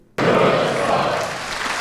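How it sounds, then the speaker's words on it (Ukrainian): Applause from the hall at a Territorial Defence Day ceremony in Sumy region honouring soldiers, a dense burst of many hands clapping that starts abruptly and stays loud and steady throughout. "під оплески залу"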